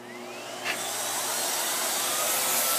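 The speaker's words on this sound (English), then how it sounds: "this combination of a good powerful suction motor and a power hand tool makes it easy to suck up that pet hair" Miele Cat and Dog S7 upright vacuum running with its power hand tool and rotating brushes on pet hair, a loud, steady close-up whine that rises slightly as the tool engages and then holds constant.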